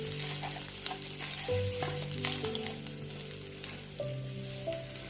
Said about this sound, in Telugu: దాన్ని బటర్లో ఫ్రై చేసుకోండి.